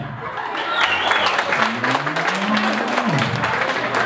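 Wedding guests applaud steadily for the couple Oralbay and Jamila at a Kazakh toy celebration, a dense continuous patter of clapping that holds for the whole span, with a host's voice and a sliding musical tone partly overlaid.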